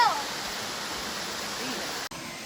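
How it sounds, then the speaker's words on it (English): A waterfall at the ruins of an old mill pours as a steady, dense broadband rush, close and continuous throughout. "we found the remnants of the old mill. One of the first waterfalls."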